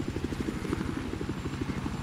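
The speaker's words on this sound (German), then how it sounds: "Südlich deiner jetzigen Position scheint feindlicher Helikopter zu sein." An enemy helicopter in the video game Battlefield 4, its rapid rotor chop pulsing steadily and moderately quiet for the whole moment, with no talk over it.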